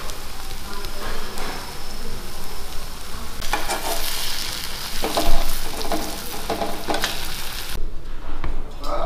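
Vada frying in hot oil for a home Tamil lunch, a steady close sizzle and bubbling that swells louder and busier midway, with occasional stirring clatter.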